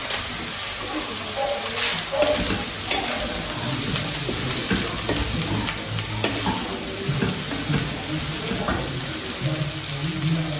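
Chicken gizzards frying in oil for a stew give a steady close sizzle and crackle with occasional stirring clinks, and no talk over it.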